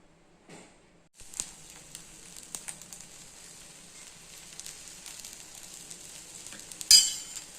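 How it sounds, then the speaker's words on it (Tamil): Wheat rava and tomato adai dosa batter poured onto a hot griddle, a soft steady sizzle rising after a brief pause and holding, with a faint clink near the end. "இப்போ வந்து நான் கல் வச்சுருக்கேன் இப்போ நம்ம தோசை ஊற்றிக்கலாம்"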